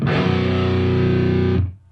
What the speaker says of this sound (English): you can put the fifth in the bass, which makes the chord sound even heavier